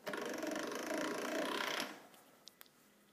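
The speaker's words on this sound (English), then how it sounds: "I'm going to take my lime green modelling chocolate and I'm going to pass that through the pasta machine" A hand-cranked pasta machine rolls a sheet of lime green modelling chocolate, giving a steady whirring, grinding mechanical drone for about two seconds before stopping, followed by a few small clicks.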